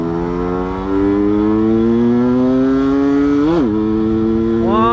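A Yamaha F1ZR two-stroke motorcycle revs hard in second gear, a loud, close, raspy engine note whose pitch climbs steadily, dips sharply near the end and then starts climbing again.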